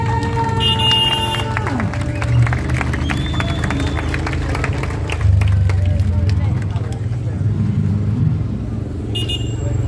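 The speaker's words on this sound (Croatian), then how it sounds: "dame i gospodo, molim vas veliki aplauz za jednog jedinog Dejana" A crowd applauds and cheers at a motorcycle stunt show, with a steady roar of engine noise underneath. The applause swells louder midway through while a voice talks over the noise.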